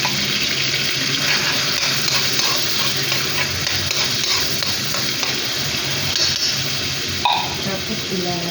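Corned beef frying for creamy spaghetti gives off a loud, steady sizzle with stirring, the dense hiss running unbroken and with a brief clink near the end, while a voice talks intermittently.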